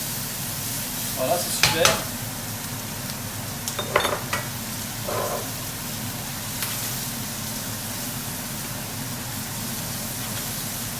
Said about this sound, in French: Les scampi ils cuisent bien.